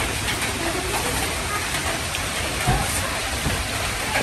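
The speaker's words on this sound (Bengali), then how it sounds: "এই যে ওইদিকে অনেক বৃষ্টি" Steady rain hisses evenly throughout, a dense wash of falling drops with no voices.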